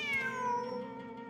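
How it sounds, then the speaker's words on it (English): A cat in the video game Genshin Impact gives one drawn-out meow that slides downward, close and clear, with no talk. "The cat!"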